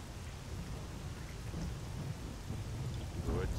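Rain falls steadily in S.T.A.L.K.E.R.: Call of Pripyat as a constant dense wash with low rumbling beneath it, and no other sounds stand out.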